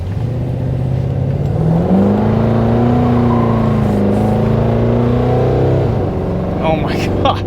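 Chevrolet Suburban engine revving hard from a standstill, a steady loud drone rising in pitch and holding before dropping off, with tire spin under it and a brief voice near the end.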